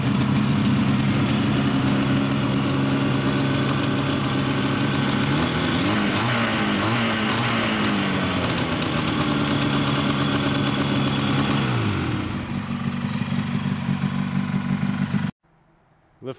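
Rotax 447 two-stroke engine on a front mount with a Mikuni 34 carburetor and point-type ignition, idling steadily and loud with a low buzzing drone and a brief pitch shift, then cut off abruptly.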